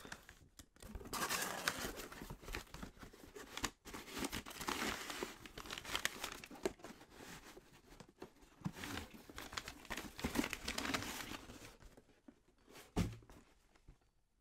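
Cardboard and plastic packaging of a Battle Beaver Customs controller being cut open and unwrapped, with steady close crinkling, crumpling and tearing that runs for about twelve seconds, ending in a single soft thunk.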